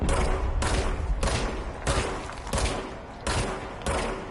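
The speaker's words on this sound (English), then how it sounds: "I always feel the need to move when I shoot" Gunfire from a video game crackles in rapid bursts, seven or so loud, evenly spaced volleys, each decaying before the next, close and dominant with no talk over it.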